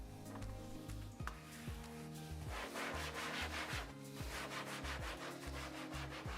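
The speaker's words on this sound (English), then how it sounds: "Just flip the mousepad over and rub the back." Soapy rubbing on the back of a cloth mouse pad, a steady scrubbing friction with repeated back-and-forth strokes, close and fairly loud, with no talk.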